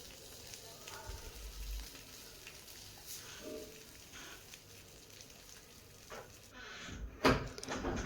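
Fish fries in hot oil in a pan with a soft, steady sizzle, broken by a few scraping and clattering bursts near the end, and a person talks over it.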